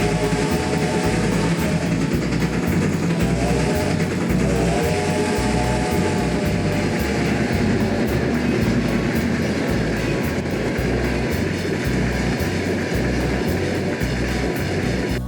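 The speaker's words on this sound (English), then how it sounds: "I really like the chuffing and loud 5 chime whistle." Steady rhythmic chuffing of a video game steam locomotive in Trainz 2, loud and close, with a continuous mechanical rumble and clatter throughout.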